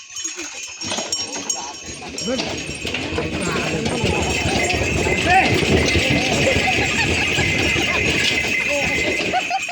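Bullock hooves clop steadily along as a bullock cart rolls on at a resort, with people talking loudly over the rhythmic plodding.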